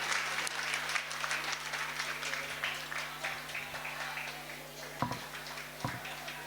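Audience applause at a library event in Ganga, India, a steady wash of clapping from a gathering heard at moderate distance over a low hum, thinning toward the end with a few louder claps.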